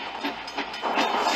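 Train in a Minecraft pony-themed world rolling along with a rhythmic clickety-clack rumble, steady and moderately loud for a brief moment, with no talking.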